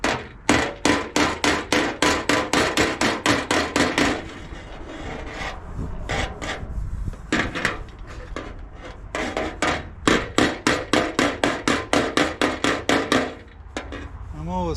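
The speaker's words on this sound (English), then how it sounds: "the other advantage to just hitting it lightly is that you won't work and harden the surface as quickly" A hammer lightly taps dents out of a steel front fender on a 1955 Triumph TR2 under restoration. Rapid, even runs of sharp close metallic taps come in bursts, separated by a stretch of quieter rubbing and scattered knocks.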